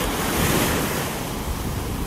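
Ocean surf in North Naples, Florida, rolls and crashes steadily onto the beach, loud and close, with heavy wind buffeting the microphone throughout and no voices.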